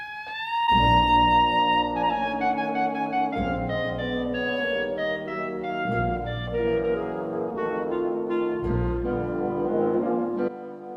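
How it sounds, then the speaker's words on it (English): A clarinet plays a slow, warm melody alone, with sustained notes over soft low accompaniment. "What you heard there was the clarinet being played"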